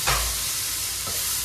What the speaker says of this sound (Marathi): आता कांदा शिजल्याच्या नंतर त्यामध्ये अद्रक लसूणची पेस्ट टाकून सॉटे करतायत